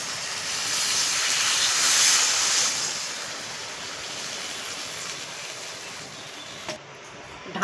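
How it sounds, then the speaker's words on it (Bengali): Water poured into a hot pan of fried potatoes and pointed gourd with prawns sizzles and hisses loudly and steadily, easing off and ending with a couple of brief clatters. "এবার আমি জল দিয়ে দিচ্ছি।"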